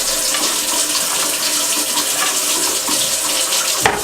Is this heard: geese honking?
no